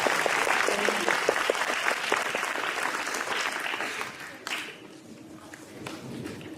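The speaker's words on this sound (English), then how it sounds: "So I would love to be able to give a round of applause to all of our amazing businesses who support this program." Audience applause at a school students-of-the-month event, a dense patter of many hands clapping that holds fairly steady, then thins and drops away, leaving a few scattered claps and faint room noise.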